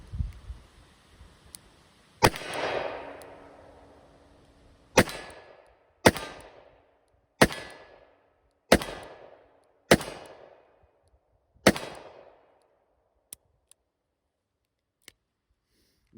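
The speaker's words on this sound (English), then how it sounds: "We'll shoot some Blazers first, and then we got some steel case Tula." Seven loud, sharp shots from a Taylor's .357 963MF revolver firing Blazer ammunition, spaced irregularly over about ten seconds, each followed by a brief ringing decay, then a few faint clicks.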